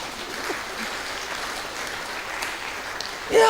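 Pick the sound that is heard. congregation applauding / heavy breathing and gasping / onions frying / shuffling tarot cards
congregation applauding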